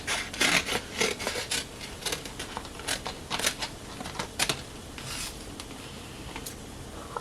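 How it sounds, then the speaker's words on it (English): Scissors trim a sheet of craft vinyl with a series of close, crisp snipping and rustling cuts, quick at first and then sparser, with no voices. "I'm also going to trim this because I don't want to waste it"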